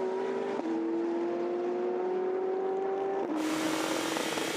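The Enso race car, with Tom Dillmann aboard, pulls out of the pits after its 22nd stop at the 2019 24 Hours of Le Mans. A loud, steady engine drone holds with brief breaks as it shifts gear, and a harsher roar follows as it reaches the track.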